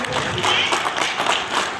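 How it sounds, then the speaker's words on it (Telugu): Church congregation clapping loudly together, a dense continuous burst of applause lasting a couple of seconds. "హల్లెలూయా, గట్టిగా కొట్టారు చప్పట్లు."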